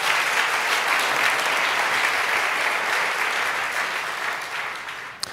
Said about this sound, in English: It's worth clapping on that one.